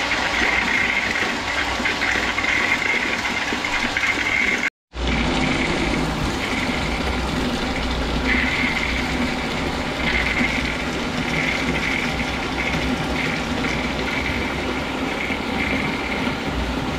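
Central heating system being flushed through with a new pump, giving a steady, loud rushing of water and pump hum that runs continuously, broken only by a momentary cut near the start.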